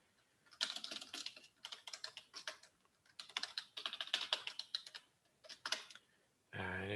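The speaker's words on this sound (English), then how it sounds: "So here I can type some text." Typing on a computer keyboard in a Python Colab notebook: quick clicky keystrokes in irregular bursts with brief pauses, close and clear.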